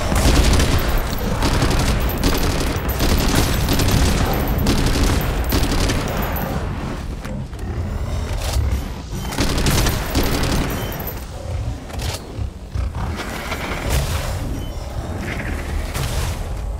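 Continuous heavy gunfire from the shooter game SYNCED, dense bursts of automatic fire and booms rolling loud and close, with brief lulls between volleys.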